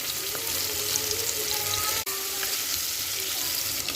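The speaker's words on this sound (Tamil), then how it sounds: "வெங்காயம் நல்லா பொன்னிறமாக ஆகிற வரைக்கும் நல்லா வதக்கிக்கலாம்." Onions sauté in hot oil until golden, with a loud, continuous sizzle and occasional scrapes of a stirring spoon, plus a brief pause midway.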